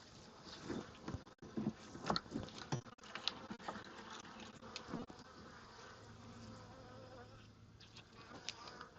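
Bees buzz faintly around a beehive in a home yard, only a few insects drifting near and away, with intermittent handling knocks and rustles over a quiet background.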